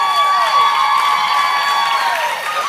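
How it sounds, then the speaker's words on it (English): A cheering section at a seventh-grade middle school volleyball state final, with a crowd clapping and shouting steadily throughout, excited children's voices and whoops over constant applause. "Right beside us, we got a cheering section."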